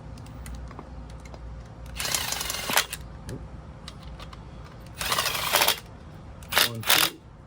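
A Bosch power tool works on a 1966 Harley-Davidson M50 motorcycle under repair, running in three short, moderately loud bursts separated by quieter pauses, with no talk.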